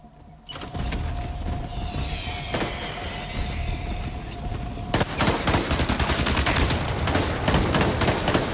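Rapid shotgun fire in the video game Death Stranding 2, a dense burst of loud repeated blasts crowding the second half after a steadier stretch of game ambience.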